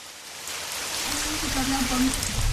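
Rain soaking a farming community in the Nanumba North Municipality of Ghana's Northern Region, a steady hiss of falling rain that thickens as it goes, with a faint tonal hum partway through.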